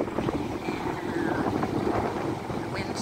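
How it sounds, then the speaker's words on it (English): Steady, rumbling wind buffets a camera microphone on a California beach, making a constant broadband roar with no distinct breaks. "you're going to hear the wind till I point the camera this way, and then you don't hear the wind so bad"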